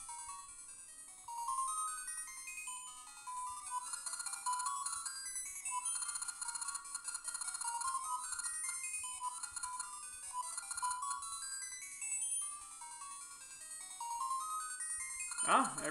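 Bright chiptune-style game music and melodic beeps from a BittBoy handheld console speaker, thin and fairly quiet, with steady arpeggiated runs and no voices.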